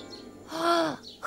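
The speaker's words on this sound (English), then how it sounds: "The bird chirped" A cartoon bird gives a single rising-and-falling chirp lasting under a second, clear and close, with a brief squeaky note following.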